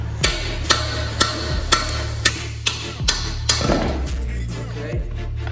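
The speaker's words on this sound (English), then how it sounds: "so I'm gonna hammer it." About a dozen sharp hammer blows on a metal car part land in a steady rhythm over a low, constant hum.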